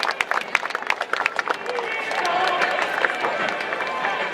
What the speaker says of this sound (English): a round of applause, ladies and gentlemen, to our open team ropers here tonight